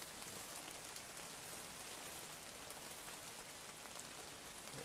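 Steady rain falls on surfaces at the wetland home of wild red-crowned cranes in Yancheng, making an even, continuous hiss with no voices.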